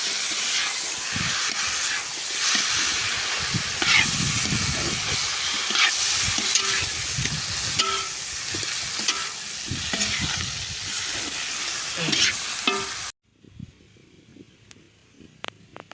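Maggi noodles cook in a pan outdoors in a field as water goes in, a loud hissing, steaming sizzle with stirring scrapes that cuts off suddenly, leaving near silence with faint clicks.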